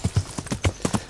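Hooves of a horse in Kingdom Come Deliverance clopping at a walking pace, loud and close, with regular sharp knocks.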